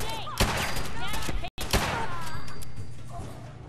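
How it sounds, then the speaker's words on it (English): Kellogg's pistol fires in a rapid volley of loud, close gunshots in Fallout 4, set in the Mass Fusion Building, with a brief cut of silence midway and someone talking excitedly over the shooting. "Kellogg's pistol."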